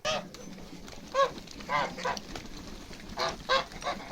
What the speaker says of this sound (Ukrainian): І побігли мої гуси.